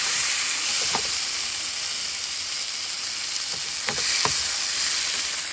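Bottle gourd curry heats in a pan, giving a steady, close sizzle and hiss with a few soft stirring clicks near the middle and end. No one speaks.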